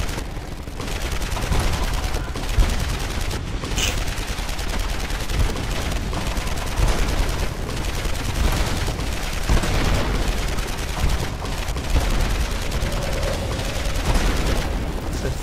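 Heavy gunfire shooting down helicopters in the action video game Marlow Briggs, a relentless loud rattle of rapid shots with occasional booms running without a break.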